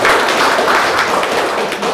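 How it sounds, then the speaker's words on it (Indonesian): An audience at a PGRI Rangkasbitung teachers' association gathering gives loud, continuous applause, a dense wash of many hands clapping at once for the whole stretch. "Tepuk tangan."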